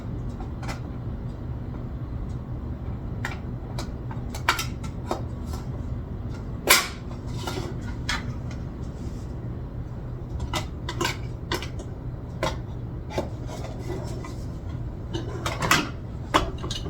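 Blades being changed on a kitchen appliance, scattered metallic clinks and clatters of metal parts being handled over a steady low hum, with one louder clank midway.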